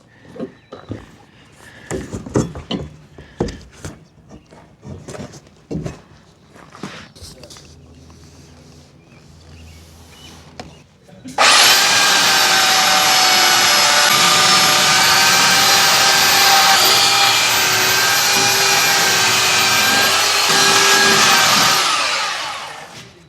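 Scattered knocks and handling noises, then a loud powered sander whirs steadily for about ten seconds before winding down while a Suzuki Carry windshield is fitted.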